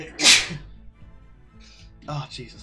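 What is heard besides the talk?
sneeze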